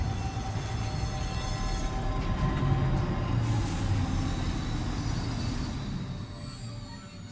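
Steady low rumbling mechanical drone of a moving monorail in the video game Death Stranding 2, continuous and fairly loud, with faint high whines above and a slight fade near the end.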